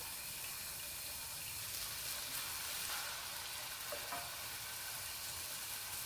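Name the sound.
minced garlic frying in green onion oil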